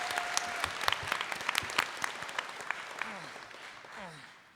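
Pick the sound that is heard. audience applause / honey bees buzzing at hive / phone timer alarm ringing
audience applause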